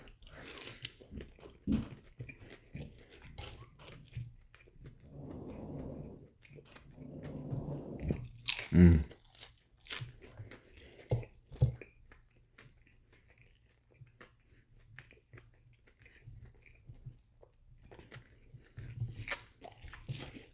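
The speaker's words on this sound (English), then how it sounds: "I bit off way more than I could chew there." Close, wet chewing and crunchy biting into a Mary Brown's Big Mary fried chicken sandwich, with soft mouth sounds in short bursts and a sharp crunch midway, otherwise quiet.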